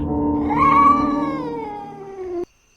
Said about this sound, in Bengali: দেখলাম একটা কালো বিড়াল।